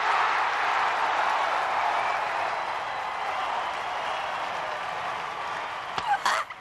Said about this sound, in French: On peut les applaudir très chaleureusement.